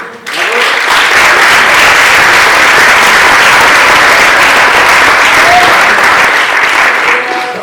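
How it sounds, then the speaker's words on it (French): Loud, sustained applause from an audience at a coding bootcamp demo day, a thick wash of clapping that swells quickly and holds steady for several seconds before easing off. "N'hésitez pas à les applaudir aussi."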